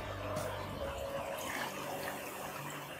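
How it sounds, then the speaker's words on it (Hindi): Water pours into a cooking pot of aloo chicken curry, a soft, steady splashing wash that stays fairly faint and continuous with no talk over it. "इसमें डाल देते हैं पानी"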